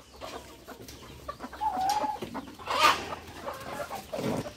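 Chickens cluck and squawk intermittently nearby inside a chicken shed, with a few sharper, louder calls standing out among softer murmurs.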